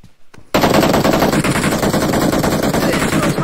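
Automatic gunfire in the shooter game Game for Peace starts abruptly after a short quiet lead-in, then continues as a loud, rapid, unbroken burst to the end.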